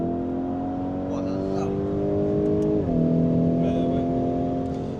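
Lamborghini Urus Performante SUV engine pulling hard under acceleration, a rising harmonic growl that dips at a gear change then climbs again, heard from inside the car with faint voices in the background.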